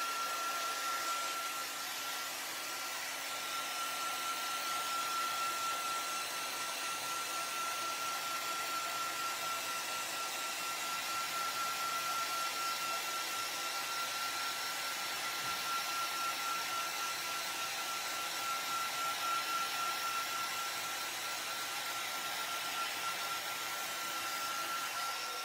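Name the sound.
heat gun drying a craft project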